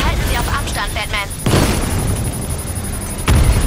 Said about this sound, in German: Die Panzer explodieren.